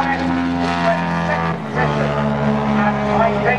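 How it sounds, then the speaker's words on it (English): A Hornet race car and other cars in a Racing Motorcycle and Sidecar Association race at the Mallory Park circuit pass trackside, one loud engine droning steadily and shifting pitch as it goes by. "Here's Ian Fletcher in the Hornet."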